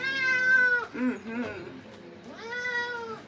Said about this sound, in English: Most ragdolls have a very mournful, unwet meow.